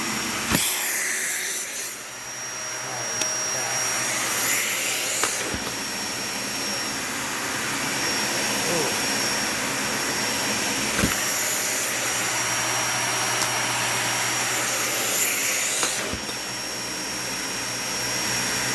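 Dyson Ball Animal 3 Extra upright vacuum cleaner running on carpet, a loud steady motor roar with a high whine, broken by a few sharp clunks and brief surges as it is pushed and pulled, no voices.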